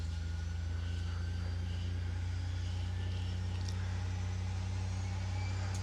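A simulated ATR72-500 turboprop engine spooling up during start, a steady low hum with a droning whine layered on top and faint clicks, heard alone without talk.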